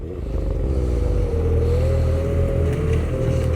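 A 2024 Ski-Doo XRS snowmobile engine drones loud and close at a steady, slightly rising pitch as the sled pushes through shallow water on a trail, with no talk.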